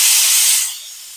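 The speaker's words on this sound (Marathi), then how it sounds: "ओके, तर झालाय कुकर शांत." A household pressure cooker vents steam in a loud, close hiss that holds steady, then drops off sharply to a softer fading hiss.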